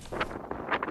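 Strong gusting wind roaring across the microphone in Alexandra during a storm with gusts near 95–115 km/h, rising and falling in several loud bursts over a steady low rumble.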